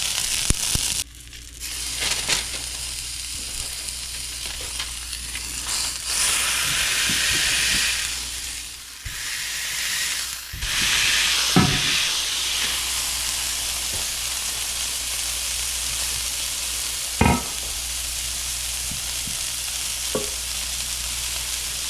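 Burger patty smashed onto a very hot iron skillet for a Smashburger: loud continuous close sizzle and hiss with scraping and pressing knocks, a few sharp clanks of the tool against the pan.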